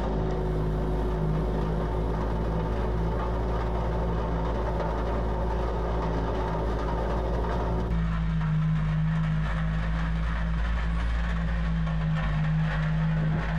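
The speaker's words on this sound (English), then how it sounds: "Now we got our trusty roller and we're going to compact it." A roller compacts gravel packed into a filled pothole, giving a steady loud engine drone with continuous rumbling that shifts in tone partway through, with no talking.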